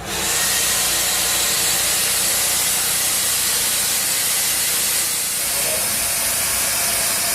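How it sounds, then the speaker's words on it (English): Live steam hisses from a steamer cooking crabs, a loud, steady, broadband rush that holds unbroken from start to finish with no voices. "Hook them up to the steamer. We use live steam."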